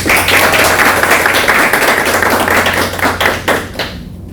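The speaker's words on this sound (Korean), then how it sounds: "전영덕 교수님을 뜨거운 박수로 환영해 주시기 바랍니다." Dense, steady audience applause fills the room at a book concert for a reissued economics book as a professor is welcomed, staying loud before thinning out in the final second.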